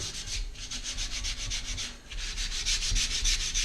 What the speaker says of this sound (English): that's the scrubbing part